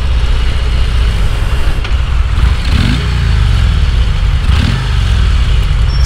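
A 2023 Harley-Davidson CVO Road Glide Limited, a 900-pound touring motorcycle, rumbles steadily while riding, its engine revving up twice in rising sweeps over constant wind and road noise, loud and close, with no talk.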